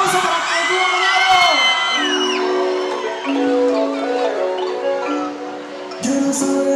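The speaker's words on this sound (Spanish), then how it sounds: "¡Un aplauso para el tío Monelo!" A concert crowd at a live showcase in Medellín cheers, whoops and shouts loudly while music plays and a singer's voice carries over the noise.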